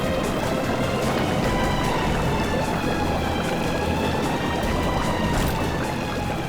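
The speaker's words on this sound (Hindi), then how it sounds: "सर, पानी भर रहा सर।" Steady, loud rushing and splashing water fills the whole stretch, a dense continuous gush with no pauses, close by, as water floods into a boat.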